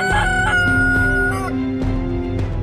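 Rooster crowing loudly and close in a children's folk tale, a long drawn-out cock-a-doodle-doo with overlapping crows, heard alone without talk.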